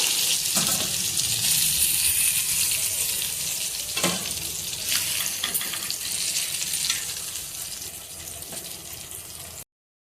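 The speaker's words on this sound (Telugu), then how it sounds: "బాగా ఇలా ఫ్రై అవ్వాలండి. ఈ సెకండ్ ఫ్రై కూడా అయిపోయింది." Fish frying in oil on the second round of frying, a loud dense continuous sizzle that slowly eases toward the end, with a few scraping stirs and crackles breaking through.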